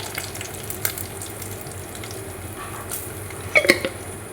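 Garlic, ginger and curry leaves sizzle in hot oil after mustard seeds have popped, for pickle during an Onam feast preparation: a steady close frying hiss with a few sharper crackles near the end, no talking.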